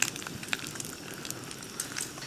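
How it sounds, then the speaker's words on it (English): Bacon sizzles in a frying pan on a camp stove outdoors, a faint, steady crackle and hiss with scattered sharp pops, heard alone without talk. "I'm going to turn the frying pan heat down"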